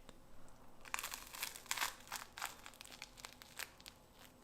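Crisp, crackly crunches of someone biting and chewing toast in a home kitchen, several close bursts over a few seconds with no talking.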